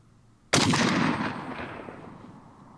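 A single sharp, loud gunshot from a Zastava ZPAP M70 AK-47 rifle with walnut furniture, fired outdoors, with a long echoing decay that fades over two seconds.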